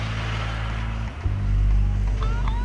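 An off-road vehicle, a Rhino 2050 camper on an off-road test, with a low, steady engine rumble that dips briefly and then swells louder as it pulls away, a constant drone filling the short stretch.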